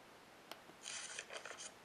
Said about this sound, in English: It sounds like you're turning the page.